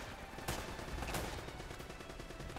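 Gunfire in Uncharted: Drake's Fortune, with two sharp shots standing out over a steady backdrop of rapid distant firing, fairly quiet and with no voices.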